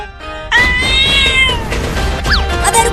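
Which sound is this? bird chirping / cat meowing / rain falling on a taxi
cat meowing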